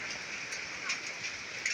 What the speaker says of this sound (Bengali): দেখেন কী পরিমাণে শিলাবৃষ্টি পড়ছে